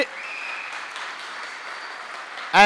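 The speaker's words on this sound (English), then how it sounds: "this applause is for all of the community organizers that have been doing this for like really long time now" Conference crowd at a tech developer festival kickoff applauding steadily at moderate loudness, a broad wash of claps that holds evenly before a voice breaks in at the end.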